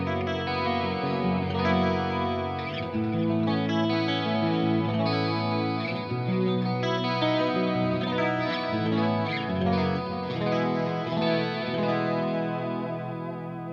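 Electric guitar played through the clean channel of a metal amplifier, with chorus-like shimmer on sustained, overlapping chords and picked notes, bright and chimey, steady and close with no talking.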